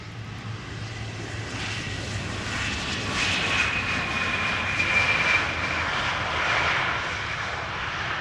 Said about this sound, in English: Up next, Embraer 175 arriving from Darlington or Teesside